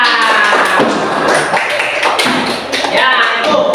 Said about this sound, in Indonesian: Tepuk tangan untuk kelompok tiga.